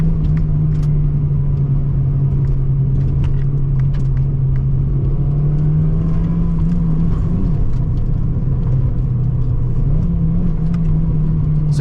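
Steady interior drone of a car driving on a road during a quick ride along, a constant low engine and tyre hum with a sustained tone and no talking.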